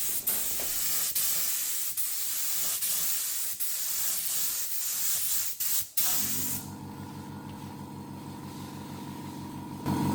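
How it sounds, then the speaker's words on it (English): A tiny budget air compressor's motor kicks in partway through spray painting. A steady spray-gun hiss plays first, then a droning electric motor hum with a buzzing tone starts and runs beneath the fading spray. "that's the compressor kicking in for the first time"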